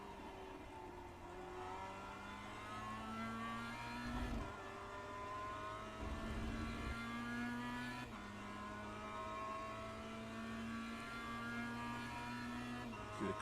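Race car engine at Daytona holding steady high revs with rising harmonic tones, briefly dipping as gears shift around four and eight seconds, loud and continuous from the cockpit with no talk.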